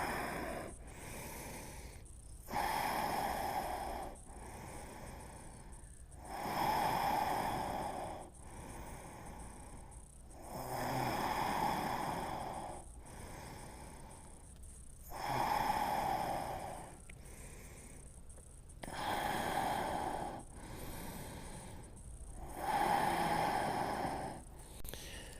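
Slow, deep breathing during a yoga stretch, with long audible inhales and exhales alternating in a steady rhythm of about five breaths, close and fairly soft.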